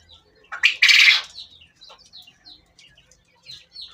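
A loud, harsh burst of Japanese quail calling up close, followed by a series of softer, scattered chirps and short calls at irregular intervals.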